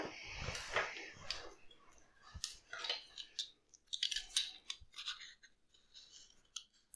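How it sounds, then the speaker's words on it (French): Knife work on pears being peeled and cut into pieces for a gluten-free, dairy-free pear chocolate cake: close, soft scraping and irregular crisp clicks and cuts at low volume, with no talking. "je vais commencer à éplucher mes poires, les couper en morceaux et les mettre au fond de mon moule à manquer"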